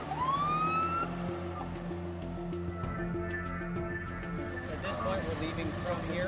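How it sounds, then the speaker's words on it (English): A search and rescue truck's siren wails with a rising electronic tone during a snowy arctic winter callout, loud and steady over a deep engine rumble and wind noise. "making lots of noise with a siren"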